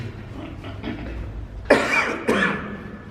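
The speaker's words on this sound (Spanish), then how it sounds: "No es necesario toser, para pintar." Two sharp coughs ring out close by, one after another, over a quiet background.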